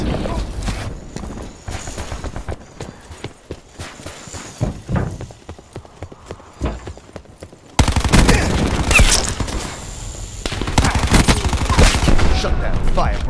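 Gunfire from the Call of Duty Black Ops 4 video game in a Hardpoint match: scattered shots and bursts through the first half, then a dense, loud stretch of sustained automatic fire. A game announcer voice speaks briefly.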